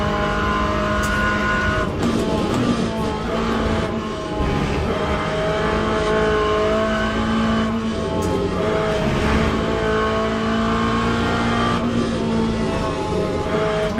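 A Corvette or BMW GT3 race car at Le Mans in the video game Le Mans Ultimate, its engine a loud continuous drone with shifting pitch and brief tire squeals, running steadily and close throughout.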